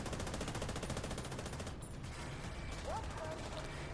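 Rapid automatic turret gunfire from a boss fight in the video game The Division 2, a dense continuous rattle of shots filling the whole stretch, with faint game voice chatter underneath.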